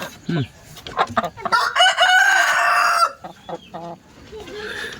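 Hill chickens and a crested Lajja rooster in a poultry yard cluck in short bursts, and one rooster gives a loud, long crow up close, with a voice talking in between.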